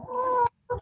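Chickens in a coop cluck close by, one sustained nasal squawk followed by a short pause and a brief second cluck, loud and without speech.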